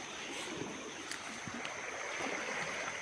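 A creek swollen by a big flood after rain in the countryside rushes steadily, a dense continuous wash of flowing water with no pauses and no voices.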